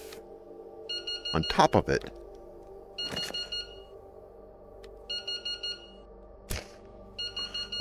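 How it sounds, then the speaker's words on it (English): A tide meter gadget in the video game Into the Radius emits short electronic beeps in repeated clustered bursts, mixed with a few thumps and brief spoken words. "The noise comes from the tide meter gadget"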